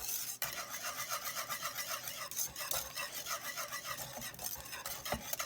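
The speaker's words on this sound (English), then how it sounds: "gonna switch over to my whisk. This will make it smooth." Whisk beating chocolate pie filling in a bowl, a rapid rhythmic scraping swish that runs steadily throughout, close and moderately loud, with no voices.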